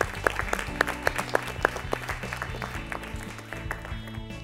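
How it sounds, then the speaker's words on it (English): Applause from an audience at a quiz event as a guest is welcomed on stage to give away prizes, scattered distinct claps over a low hum, moderately loud and thinning toward the end. "Let's clap for him, please."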